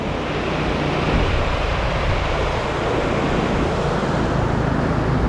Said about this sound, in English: The water passes through the tubes, and that's why it gets so agitated.